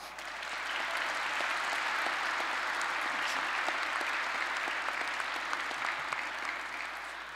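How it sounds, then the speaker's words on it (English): At a fall electrical and computer engineering commencement, the audience applauds professors and counselors with a sustained, even wash of clapping heard from a distance, faint and without talk. "Let's give them all a big round of applause."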